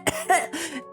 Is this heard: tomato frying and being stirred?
no